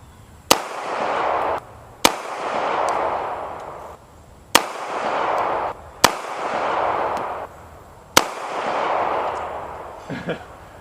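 Five sharp handgun shots ring out at a target one after another at uneven intervals of about two seconds, each a loud crack followed by a long rolling echo, close and clear with no talking.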